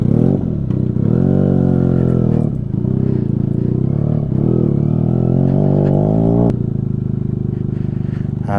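A motorcycle on an off-road hillside route runs close and loud, its engine note rising and falling as it is ridden and maneuvered, then settling into a steady idle as it is parked, with no talk.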